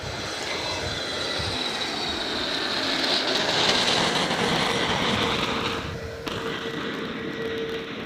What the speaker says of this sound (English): Jetstar A321 Neo now, in from Adelaide, I believe